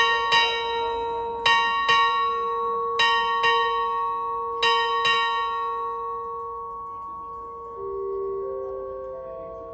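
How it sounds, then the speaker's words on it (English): The ship's bell of the Queen Mary 2 rings eight bells at noon in four pairs of clear metallic strikes, each ringing out and fading, followed by a soft lingering tone. "Ring the bell."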